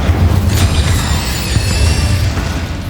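A fire spell blast in Hogwarts Legacy, a continuous loud roaring burst with deep rumble and crackling sizzle, sustained throughout with no voices.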